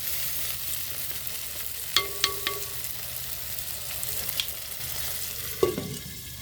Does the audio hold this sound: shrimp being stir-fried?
yes